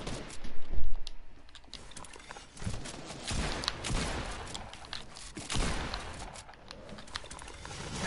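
Rapid SMG fire in a video game, with bursts of dense gunshots rattling close and loud.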